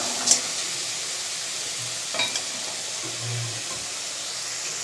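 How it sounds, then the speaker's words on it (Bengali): Greens (saag) with turmeric are stirred in a hot pan, giving a soft, faint steady sizzle with a few brief scrapes of the spoon. "এইভাবে হলুদটা দিয়ে কিছুক্ষণ নাড়াচাড়া করে নিই"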